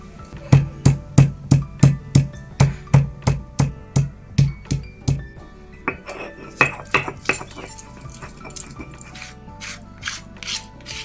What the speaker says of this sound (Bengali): প্রথমে আমি এগুলোকে একটু শিলে বেটে নেবো